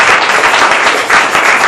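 A church congregation breaks into loud, steady applause and clapping after a Bible reading, the sound close and continuous without talk over it.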